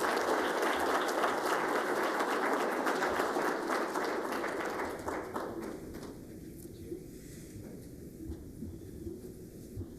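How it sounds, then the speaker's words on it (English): Steady applause fills a hall of fame induction ceremony after a family's thank-you speech, dense clapping that softens and thins partway through, leaving a quieter room tone. "Another round of applause for the Bibb family"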